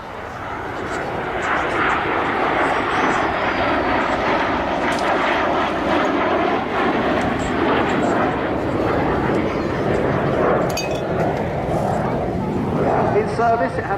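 A military bomber jet flies at an airshow at Dunsfold, its engine roar loud and steady throughout, swelling and shifting slightly as it passes, with a voice talking over it.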